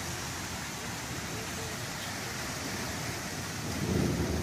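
Heavy rain and gusting wind from a thunderstorm in Mississippi roar in a dense, steady wash that swells with a low rumble near the end.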